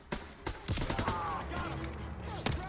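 Machine gun fire in the Call of Duty: WWII video game, a steady stream of rapid shots with sharper individual cracks, fairly faint and mixed with game sounds and background noise.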